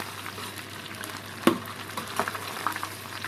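Squid pieces frying as calamares in very hot oil at about 180 to 200 degrees, giving a steady broadband sizzle with a few sharper crackles and pops standing out against the constant frying hiss.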